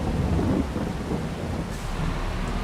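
Steady rain hisses in Farming Simulator 22 while deep thunder rumbles low beneath it, with no talking.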